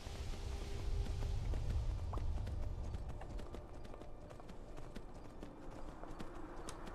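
Horse hooves clip-clop steadily in Skyrim Special Edition, a close, rhythmic walking beat over faint background game ambience.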